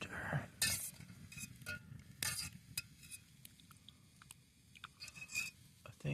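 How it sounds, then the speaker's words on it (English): Tea being stirred over a campfire outdoors, soft faint clinks and scrapes of a utensil against the pot coming in irregular taps over a low background, with no talking. "let's give this tea a stir"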